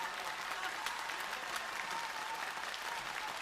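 Audience at a Yue opera contest applauding, a steady dense clapping from a large crowd that holds at an even level throughout, fairly distant.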